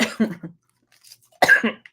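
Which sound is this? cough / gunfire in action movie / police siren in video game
cough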